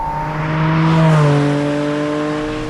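A Porsche Boxster Spyder RS engine revs hard, its tone climbing to a peak before a gear change pulls the pitch down and it settles into a smooth, sustained drone, close and loud with no talking.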